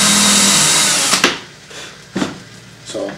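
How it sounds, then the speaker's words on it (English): A power drill bores a hole into the corner of a door, running loudly and steadily for about a second before stopping, followed by a few short bursts of the drill. "I will drill a hole"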